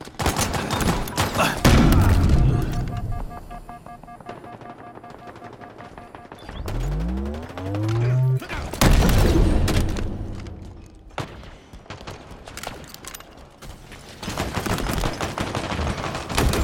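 Rapid automatic gunfire from a machine gun in the video game Halo Infinite, loud bursts of rattling shots repeating across the clip with booming impacts and a brief rising whine in between.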